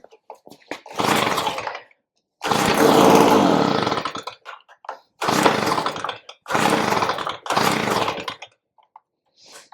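A Stihl SH85 leaf blower's small two-stroke engine is pulled over and roars in several loud separate bursts, each lasting one to two seconds with short silent gaps between them, heard close up.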